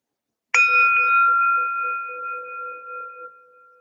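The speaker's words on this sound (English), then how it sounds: "I'll start with the bell and a bow to open our formal sitting." A meditation bell is struck once to open a formal sitting, giving a bright, clear ding that rings on as a long, steady tone and slowly fades, heard alone and close.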